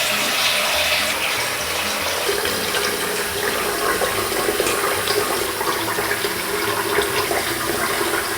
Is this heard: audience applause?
no